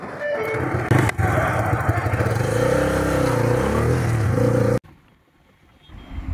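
A Bajaj Freedom 125 CNG motorcycle engine runs loud and close, revving as it pulls away, then cuts off abruptly into near silence.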